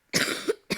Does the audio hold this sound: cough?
yes